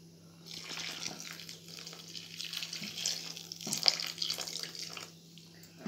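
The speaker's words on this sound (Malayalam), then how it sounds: "നമുക്ക് ചൂടുവെള്ളം ചേർത്ത് കൊടുക്കാം" Hot water poured from a vessel into rice flour for kuzhakkatta, a steady splashing and trickling stream lasting several seconds, fairly close and moderately loud with no talk over it.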